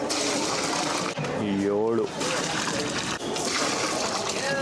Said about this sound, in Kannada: ಆ ಬಿಸಿ ನೀರು ತೊಗೊಂಬಂದು ಇಲ್ಲಿ ಹಾಕುವಂಥದ್ದು.